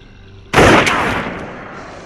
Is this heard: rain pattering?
no